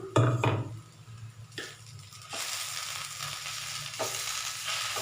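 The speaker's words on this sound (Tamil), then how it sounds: "மீடியம் ஃப்ளேமில் வச்சு ஒரு பத்து நிமிஷம் அந்த மாதிரி கிளறி விட்டிங்கன்னா வெந்துடும்" Beetroot poriyal stir-fries in a pan over a medium flame, with a loud opening clatter followed by a steady sizzle and scraping stirs. No one speaks.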